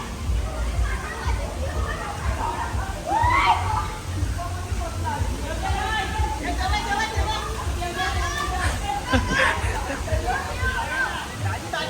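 A crowd of children and adults splash and play in a pool, sloshing water and lively chatter and shouts mixing into a continuous busy wash of sound.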